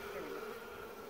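Honeybees buzz inside a jar dusted with powdered sugar, making a steady, close, continuous hum that holds level throughout without pause.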